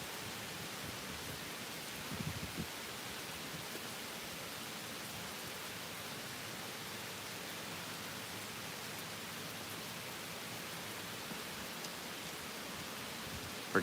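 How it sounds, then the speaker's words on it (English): Heavy rain pours straight down outside, a steady, dense, even hiss that fills the whole stretch with no break and no voices. "That's some rain, yo. Coming straight down too."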